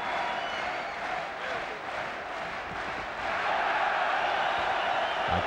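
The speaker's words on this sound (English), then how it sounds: "Crowd goes wild on the one punch landed by Ottke in the round." A large boxing arena crowd roars and cheers in a sustained wash of noise after a punch lands in a professional bout, swelling louder toward the end.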